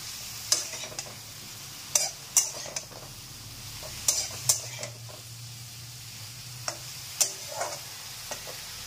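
Vegetables with turmeric stirred in a pan while spinach, eggplant and potato cook, spoon clinks and scrapes repeating at irregular intervals over a faint low sizzle.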